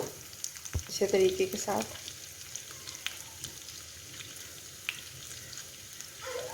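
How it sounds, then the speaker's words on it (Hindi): Carrots fry in a pan for Afghani pulao, giving a soft, continuous sizzle with occasional stirring clinks and scrapes, while someone speaks briefly over it. "जी तो आप देख रहे हैं गाजरें मैं फ्राई कर रही हूँ यहाँ पर।"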